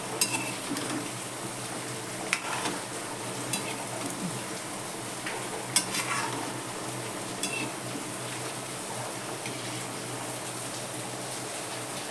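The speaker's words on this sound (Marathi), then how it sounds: "जरा बारीक गॅस करूनच तळावे लागतात ते नाहीतर मग ते आत कच्चे राहतात" Sweet gulgule dumplings deep fry in oil over a low flame, making a constant soft bubbling sizzle with a few faint clinks of a utensil against the pan and no voices.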